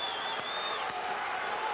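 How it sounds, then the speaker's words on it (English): A wrestling crowd in Hilton Coliseum on its feet cheering an Iowa State heavyweight in 1981, a continuous broad roar of voices heard from a distance with a whistle-like tone running above it. "The crowd in Hilton Coliseum is up. They're on their feet, and what they're doing is giving as much encouragement as possible to Mr. Osenbaugh."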